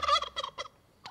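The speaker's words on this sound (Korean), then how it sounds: "이게 칠면조의 울음소리입니다" A turkey kept in a zoo gives a short, rapid gobbling call, several quick bursts close by and then a brief final note.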